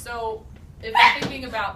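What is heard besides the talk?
sneeze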